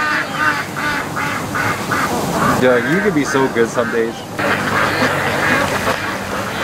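Ducks quack in a burst near the middle, partly mixed with someone talking to a dog named Doug and outdoor background noise, as the flock comes out on a warm, sunny autumn day at a duck-raising yard.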